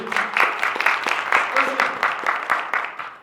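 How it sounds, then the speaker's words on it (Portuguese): Audience applause at a sales training event, a sustained run of clapping from the crowd with some voices mixed in underneath. "Dá uma salva de palmas para ele."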